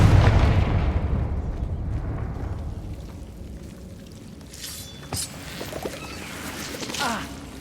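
A Confringo spell explosion in Hogwarts Legacy opens with a loud, deep boom that decays into a long fading rumble, followed by a few faint scattered pops and crackles.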